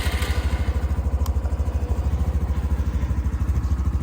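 A Honda Trail 125 motorcycle idling nearby, a steady low rhythmic engine pulse with a light mechanical clatter, even and unchanging.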